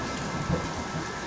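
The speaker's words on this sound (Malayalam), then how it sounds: "മാനത്ത് കാതടപ്പിക്കുന്ന ഇടിമുഴക്കവും അതിന് കൂട്ടായി മിന്നലും ഭൂമിയിൽ വന്നു പതിച്ചുകൊണ്ടിരുന്നു" Heavy rain and rumbling thunder used as a sound effect in a spoken horror story, a dense constant downpour with low thunder rolling beneath it, close and loud.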